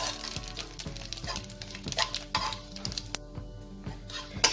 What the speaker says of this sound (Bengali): একটু দারচিনি আর 4টে এলাচ আমি ফোড়ন দেব